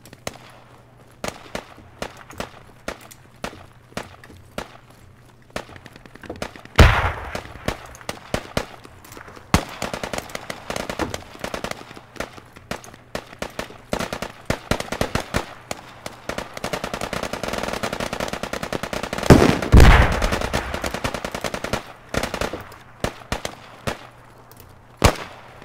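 Machine gun fire in the tactical shooter game Squad, insurgency mode on the US side: bursts of automatic shots rattle throughout, with a dense, louder stretch of sustained fire near the end.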